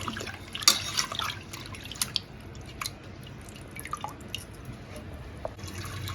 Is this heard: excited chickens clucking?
no